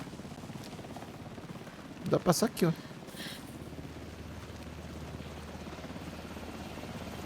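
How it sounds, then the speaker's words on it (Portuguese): Steady rotor thrum of a helicopter in the video game Alan Wake 2 near Cauldron Lake continues low underneath, while someone briefly talks over it. "É um helicóptero isso?"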